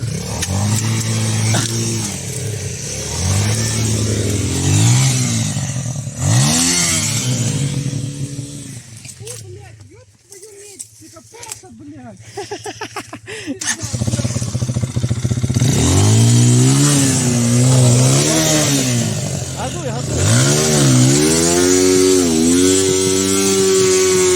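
A Loncin LX300 motorcycle churns through mud, its engine revving hard in repeated rising bursts up close, with a shorter, quieter lull partway through, while voices shout over the noise.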